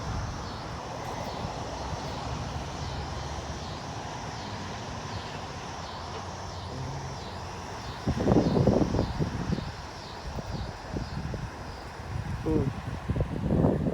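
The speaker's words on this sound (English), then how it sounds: "Wind is starting to pick up." Strong wind picks up outdoors in Jonesboro, Arkansas, a steady rushing roar with buffeting gusts against the microphone that grow louder toward the end.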